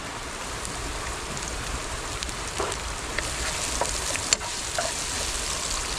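Garlic and ginger sizzle and crackle in hot oil for tilapia as they are stirred in the pan, a steady close frying hiss with a few soft scrapes and clicks.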